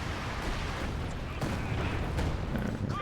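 Gunfire aimed at a caddy vehicle in a video game: steady, dense booming bursts that run continuously at a constant level throughout.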